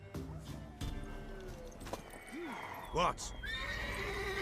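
A mare in The Witcher 3 gives a short whinny amid clopping hooves, with game voices speaking around it and one brief spoken word over the sound.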